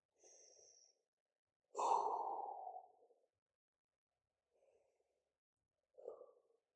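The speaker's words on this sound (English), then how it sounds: "Nice deep breath." Deep breathing during a stretch in a legs, bums and tums fitness class: a short inhale, then a long, loud exhale that tapers off, followed by quieter breaths, close and isolated against silence.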